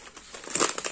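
Foam padding in packaging for CNC foam-cutter parts being handled, with soft crinkling and rustling that thickens into a cluster of close, quiet crackles.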